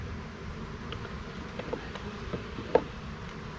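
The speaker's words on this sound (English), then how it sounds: "Lots of bees down there, that's for sure." Honey bees buzzing around an open hive during an inspection, a faint low drone with occasional brief knocks and taps and no talking.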